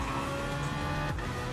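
A race car engine in Gran Turismo Sport on the Dragon Trail circuit holds a steady, loud drone at high revs that shifts pitch briefly near the end, with no talk over it.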